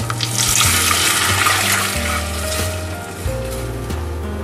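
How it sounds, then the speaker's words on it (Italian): Milk is poured into melted butter in a pan, giving a soft, steady liquid sizzle and pouring wash that continues throughout, with music playing underneath. "Il burro è sciolto, aggiungo il restante latte."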